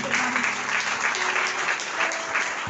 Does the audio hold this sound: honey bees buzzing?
no